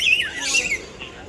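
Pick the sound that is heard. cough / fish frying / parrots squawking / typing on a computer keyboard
parrots squawking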